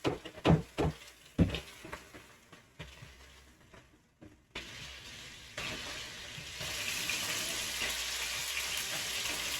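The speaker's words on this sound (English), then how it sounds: "we're gonna add the beef up in here. I love that sizzle" Ground beef sizzling and crackling in a hot pan, starting with a few clattering stirs, then a steady, rising hiss of meat frying close by.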